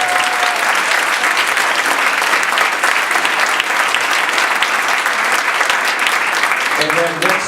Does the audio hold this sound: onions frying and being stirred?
no